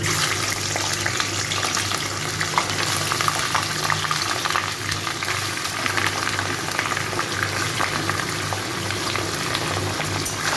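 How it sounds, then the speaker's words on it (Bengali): Chicken pieces frying in a pan, a dense, continuous bubbling sizzle that stays loud and even throughout, close up with no voices. "চিকেনগুলো একটু ভালো করে ভেজে নেব।"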